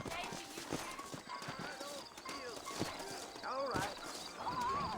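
Horse hooves clip-clop in an uneven trotting rhythm alongside a whinny, with someone briefly speaking over the hoofbeats, in the video game Red Dead Redemption.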